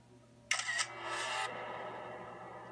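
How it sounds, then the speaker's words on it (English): A digital camera shutter fires as a sharp click followed by a bright mechanical whir lasting about a second, close and clean, then fading into quiet background hum. "The sound of a digital camera shutter, accompanied with a blindingly bright flash coming from an adjacent room"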